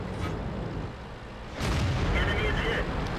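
A tank cannon fires at an enemy tank in a video game. Steady low engine rumble fills the scene, then one heavy boom hits about halfway through and thickens into a louder, denser roar that holds to the end.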